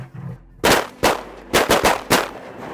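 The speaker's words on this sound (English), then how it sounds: "Good shooting, guys." Shotgun blasts during a morning duck and goose hunt over water, four or five loud close shots fired in a quick irregular volley.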